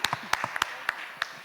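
A handful of scattered hand claps from an audience at a Prime Video slate announcement event, sharp and irregular rather than a full ovation, with no talking.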